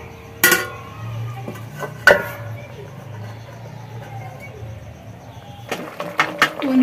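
A metal lid set over a cooking pot of chicken rosla: two sharp clanks a couple of seconds apart, then a quick cluster of rattling knocks, all under a person speaking.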